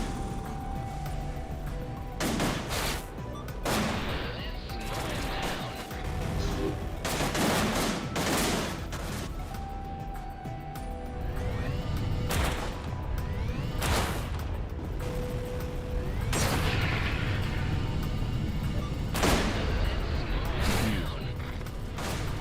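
Spaceship guns fire in the video game Everspace 2 as repeated loud bursts and volleys, some sustained while a trigger is held, with hard impacts and crashes between them and a steady background hum.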